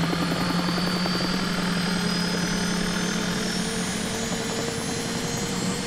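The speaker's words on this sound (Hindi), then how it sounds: "ओह, इंजन पहले से ही चालू है," An aircraft engine runs steadily at close range, a dense, continuous droning roar with a strong low hum and rotor-like beating that holds at constant loudness throughout, with no talking.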